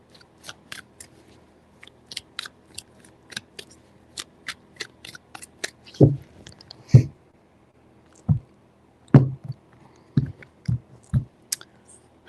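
Tarot cards are shuffled alone in a quiet room, a run of crisp riffling clicks and soft slaps in irregular bursts, with several louder thumps as the deck is squared.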